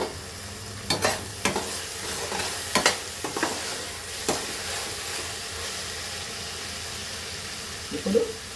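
Chopped tomatoes and bean pieces frying in a pan while being stirred, giving a steady low sizzle broken by a few sharp scraping clinks of the spoon against the pan, close and fairly quiet.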